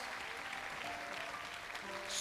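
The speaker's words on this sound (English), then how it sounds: "Give them a round of applause as they make their way down the stage" An audience applauds kids walking down off a stage at a school Christmas event, a continuous mid-distance wash of clapping that swells slightly at the end, with a few faint voices mixed in.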